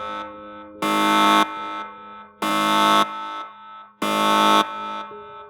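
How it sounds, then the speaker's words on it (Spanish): A central prison alarm blares in three long, harsh buzzing bursts at a regular pace, each followed by a quieter lower tone, loud and close with no voices over it. "Era la alarma central de la prisión."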